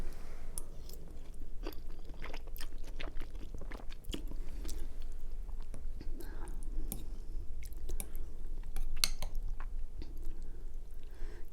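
Close, steady chewing and slurping of spicy ramen noodles with a poached egg, continuous wet crunching and smacking sounds up near the mic, with no talking.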